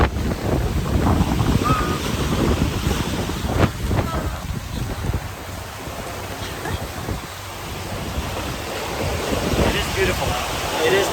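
Atlantic Ocean waves and gusting wind out at sea, far from land: continuous broad wash of surf with buffeting wind noise on the microphone, swelling and easing over time, with occasional nearby splashes.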